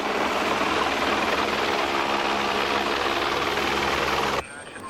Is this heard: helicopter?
yes